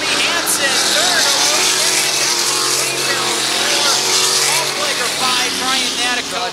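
Sprint car heat race on a dirt oval, engines roaring loud and continuous as several cars run through turn four, with a track announcer talking over the din.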